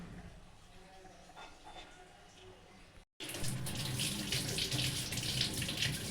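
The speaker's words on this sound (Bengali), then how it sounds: "এবার এটাকে খুব ভালো করে ধুয়ে নিয়ে আসছি" Tap water runs into a sink while cut cauliflower is washed, a soft steady stream that briefly cuts out and then returns as a louder, fuller gush.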